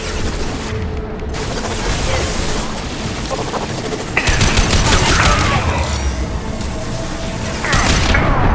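Gunfire from the video game Mass Effect 2, a dense crackling fusillade with booming blasts that swells louder midway and again near the end, heard alongside game speech.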